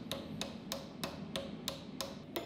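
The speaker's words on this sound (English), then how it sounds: "the only way to do that without some fancy CNC stuff is to hammer it on the tang" Eight sharp metallic hammer strikes ring out at a steady, even pace as a habaki collar is driven onto the tang of a Damascus katana, each blow crisp and close, with no talk.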